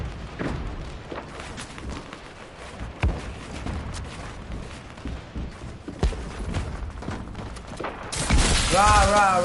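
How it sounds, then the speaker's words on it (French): A grenade going off in the video game Fortnite amid gameplay, with sharp booming thumps and bursts of gunfire scattered through the clip while a player talks over it. "C'était une explosion grenada."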